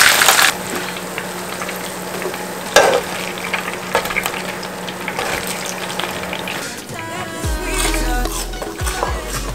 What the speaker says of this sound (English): And I'll just fry it.